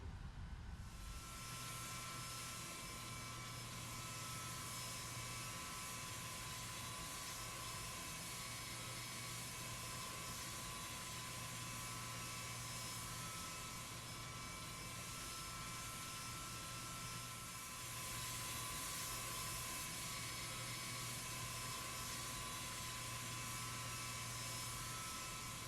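Boeing 757-200 engines idling steadily while taxiing in the X-Plane 11 flight simulator, a constant loud jet whine with a low hum, continuous and unbroken with no talk.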